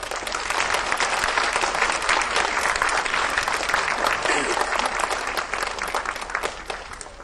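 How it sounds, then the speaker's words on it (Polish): A Polish audience at an event for youth helping animals gives a big round of applause for supervising teachers, dense clapping that runs strong for several seconds and fades slightly near the end. "Wielkie brawa dla nauczycieli opiekunów."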